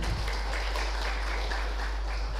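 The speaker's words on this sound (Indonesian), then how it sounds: "tepuk tangan dulu untuk kita semua." A workshop audience applauds: a loud, continuous wash of clapping that carries evenly from start to finish, close and unbroken.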